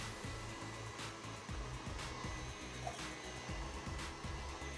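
Electric mixer beating Christmas cake batter with grated lemon zest in a kitchen, a steady motorized whir with a rhythmic chugging pulse, close and continuous, no voices.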